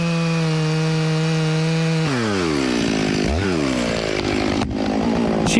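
A chainsaw cuts through a tree, its steady idle-like whine dropping into a loaded, bogging pitch as the chain bites the wood, loud and close with no talking.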